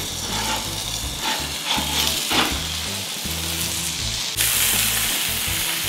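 A burger fries in hot oil with a close, continuous sizzle and crackle, with a low mechanical hum under it and a brighter hiss rising near the end.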